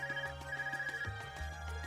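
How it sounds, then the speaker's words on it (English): A handheld Arcus communication device rings in the video game Trails of Cold Steel, a repeating electronic ringtone pulsing steadily throughout over a soft game music background, with no voices. "Is that your Arcus ringing?"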